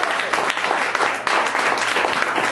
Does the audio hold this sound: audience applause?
yes